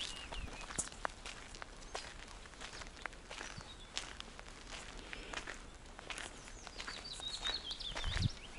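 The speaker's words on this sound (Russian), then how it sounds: "Это зяблик поет." A chaffinch sings somewhere off along a riverside eco-trail near Perm in late May. Its thin phrases come faint and distant, mostly under the crunch of footsteps on the path.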